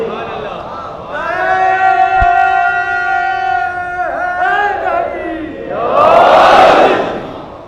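A large mosque audience at a Muharram majlis chants a religious slogan together, a loud sustained unison cry with rising tones, then breaks into a louder surging roar of crowd voices near the end.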